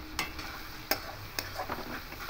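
Boiled potato pieces are stirred into ghugni in a pan, with soft scraping and several sharp spoon taps in an irregular rhythm, faint and close over a low background.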